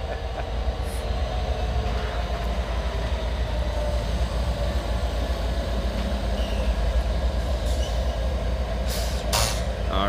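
Norfolk Southern freight train moving through Emmons Boulevard in Wyandotte, Michigan, a loud steady rumble of rolling cars with faint wheel clicks and a brief hiss of air brakes near the end, no talking.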